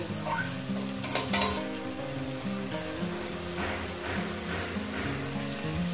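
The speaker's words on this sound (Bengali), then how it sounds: "পেঁয়াজ বাটাটাকে দিয়ে আমি মিনিট 3 ধরে এটাকে আমি সুন্দর করে পেঁয়াজটাকে ভেজে নেব।" Onion paste frying in a pan for dahi katla fish curry, a constant dense sizzle with soft spatula stirring throughout, close and even, no speech.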